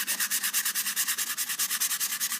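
Sandpaper rubbing back and forth across the plastic body of a Nerf Mega Magnus blaster, a steady rapid rhythm of raspy strokes, close and fairly loud with no talking.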